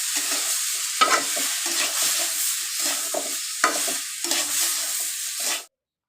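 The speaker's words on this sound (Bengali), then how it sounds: "চাল আর ডাল ভালোভাবেই ভেজে নিব" Washed rice and lentils are fried in a pan for vegetable khichuri, giving a continuous sizzle broken by several louder scraping stirs of a spatula, close and busy, before the sound cuts off abruptly near the end.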